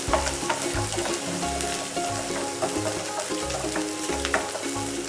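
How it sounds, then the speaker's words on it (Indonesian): All-purpose spice paste sautéing in a pan makes a dense, loud, steady sizzle and crackle, with a rhythmic low thumping or stirring pulse underneath, close up and without talk. "Jadi kita numisnya nggak terlalu lama, sebentar aja"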